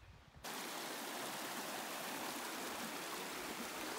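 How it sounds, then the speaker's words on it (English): A mountain creek in the Kananaskis area of the Rockies rushes in a steady, full hiss that swells in just after the start and continues unbroken, with no voices. "I'm not sure what creek this is"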